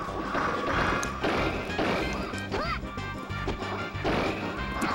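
Repeated forward smash attacks land in a Super Smash Bros. 64 tournament match, Kirby versus Fox, with sharp cracking hits and thuds in quick succession over a busy wash of game noise and crowd.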